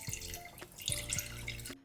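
Cold tap water runs and splashes into a pot for blanching beef, a close, continuous watery hiss with a few drips and bumps, stopping abruptly at the end.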